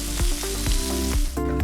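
Steak sears on a barbecue grill with a loud steady sizzle and spatter, punctuated by a few soft knocks and scrapes, no voices over it.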